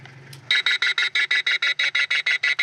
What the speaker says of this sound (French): On va plutôt diffuser un cri d'alarme qui va le repousser.